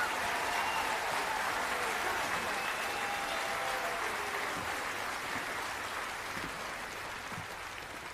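A theater audience at a comedy stage show applauds steadily, a fairly soft, even patter that holds throughout and fades slightly toward the end.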